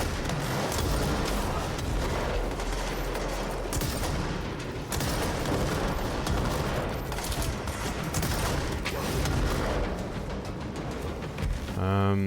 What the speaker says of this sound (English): Got a sniper shooting me.